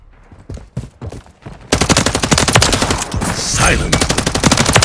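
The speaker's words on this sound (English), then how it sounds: "Taking effective fire." Video game gunfire rattles in dense automatic bursts, starting with scattered shots and then swelling into a loud, continuous barrage of rapid close-range fire.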